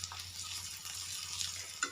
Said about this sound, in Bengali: এখানে হচ্ছে অলরেডি পেঁয়াজটা হালকা লাল লাল ভাজা হয়ে গেছে।